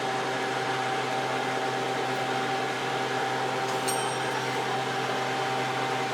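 A kitchen exhaust fan hums continuously with a steady whooshing drone and a faint tonal whine, unchanging from start to finish, with no talking.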